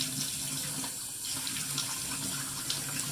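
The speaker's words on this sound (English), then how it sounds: "So I'm just going to get some water on my face." Tap water runs steadily into a sink as water is splashed onto the face before a wet shave, a continuous close hiss and splash with no talking.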